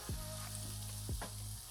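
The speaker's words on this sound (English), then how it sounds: "Can you hear the sizzle?" A Cuban sandwich sizzles in butter in a hot pan, giving a faint, steady frying hiss. A few low knocks of the pan or utensil come through over the short span.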